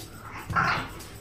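Pet dogs at home give a short whimpering yelp that swells briefly in the middle. It is fairly faint and alone.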